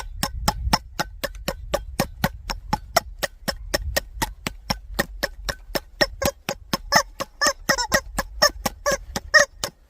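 Rubber chicken toy squeezed over and over as a blunt weapon against a rifle scope during a torture test, giving a fast, steady run of sharp squawks and honks, loud and close, with dull thumps underneath.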